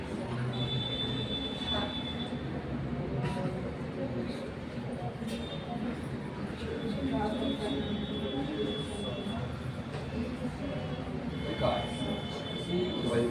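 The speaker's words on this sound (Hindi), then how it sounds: "रेलवे स्टेशन में" A train at a railway station rumbles steadily, with repeated high metallic wheel squeals over the continuous roar and voices murmuring faintly in the background.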